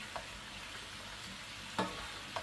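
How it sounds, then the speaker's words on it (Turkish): Leeks with chili flakes and black pepper sauté gently in a pan while being stirred, making a faint, even sizzle broken by a few soft spoon scrapes. "Şöyle birazcık kavuruyorum. Karıştırıyorum hem de."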